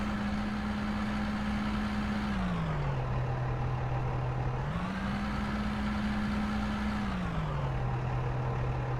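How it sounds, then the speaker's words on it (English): A steady, droning truck engine in the video game Out of Ore runs continuously, its pitch sinking and rising again in a repetitive loop, with no talking. "Plus the truck sound is really bad."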